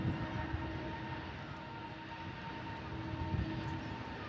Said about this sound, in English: EasyJet first to depart, Airbus A320 Neo.